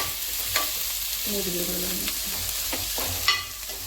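Onions and green chilies fry in a pan with a steady close sizzle, broken by a few sharp stirring scrapes and clicks of a spatula.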